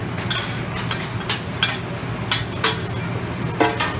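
Food sizzling on a Mongolian barbecue grill at a hibachi buffet, with a steady hiss under repeated short metallic scrapes and clinks of the cook's utensils.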